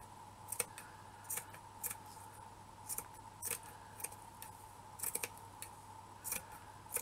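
Scissors snip repeatedly while trimming small pieces for a shabby-chic wall plaque, with about a dozen crisp, close cuts spaced irregularly over a faint steady hum.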